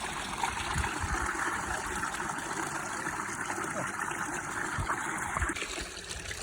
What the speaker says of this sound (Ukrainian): Буровий насос подає воду.